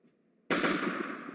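Sudden loud burst of rapid gunfire from a pistol in the survival video game Last Day On Earth, starting partway through after near silence and sustaining densely to the end.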